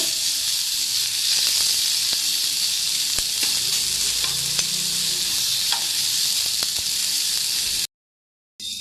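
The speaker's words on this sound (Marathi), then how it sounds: "कांदा पण चांगला लालसर भाजून घ्यायचा" Onion roasting in a pan until reddish for a spicy homestyle chicken curry, a steady close sizzle with occasional stirring scrapes, running alone before cutting off abruptly near the end.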